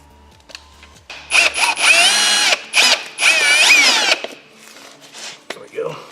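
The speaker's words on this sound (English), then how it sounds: "drill a hole for it" A power drill boring a hole to mount a Launch Control toggle switch, several loud bursts of high whining drilling, each lasting about a second, with short pauses between and faint handling noise afterward.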